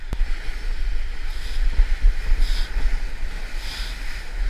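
Ocean waves wash against a tropical island shore in a continuous low rumbling surge, with wind buffeting the microphone and no voices.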